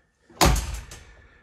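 A Porsche 968 car door swings shut with a single solid slam and thunk, close by, followed by a brief fading rattle.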